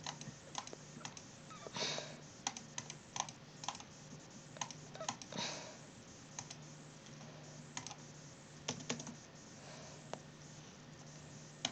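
Fingers tapping a computer keyboard in irregular bursts of quick clicks and single key presses, close and fairly quiet, with a few faint sniffs and no talking.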